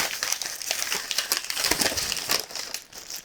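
Newspaper crinkling and crumpling close up while wrapping a puzzle, a dense run of crisp rustles and crackles without pause.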